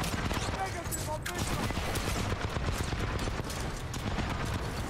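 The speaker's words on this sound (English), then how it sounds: "That sounds like a turret more than anything" Rapid automatic gunfire like a turret in the game Titanfall 2, loud and continuous, rattling steadily throughout with dense bursts filling the mix.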